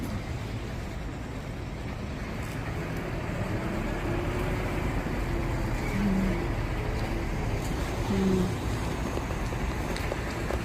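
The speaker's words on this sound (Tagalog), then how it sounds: "Dami mga sasakyan dito eh." Steady low rumble of cars and traffic outdoors at a car dealership on a cold, drizzly day, a continuous engine and road hum at moderate distance with no talking.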